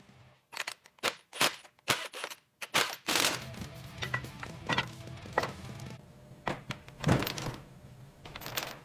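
A heavy gearbox is set down and mounted onto a workbench in a series of loud, close thunks and clanks, with sharp metallic knocks and scraping repeated across several seconds.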